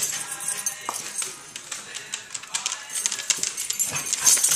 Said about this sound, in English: What you barking at, huh?